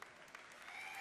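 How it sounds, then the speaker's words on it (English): Audience at a BlizzCon Diablo 3 panel clapping, a short faint burst of scattered applause from a crowd in a hall, steady over about a second. "Yeah, you can applaud for guilds."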